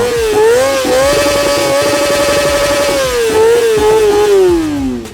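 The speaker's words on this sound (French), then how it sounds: "nous avons retiré la chicane du silencieux afin de laisser la ZX25R chanter à plein poumon" A Kawasaki Ninja ZX-25R four-cylinder engine with a full Yoshimura exhaust and the silencer baffle removed screams loud and close at high revs on a closed road, holding a piercing wail that dips and climbs again before tapering off.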